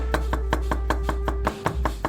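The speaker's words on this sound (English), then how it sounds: "I like how this chops through these cucumbers" A Teruyasu Fujiwara Denka nakiri chops through cucumbers, giving about a dozen crisp, evenly spaced knocks against the board over a steady low hum, close and clear with no talk.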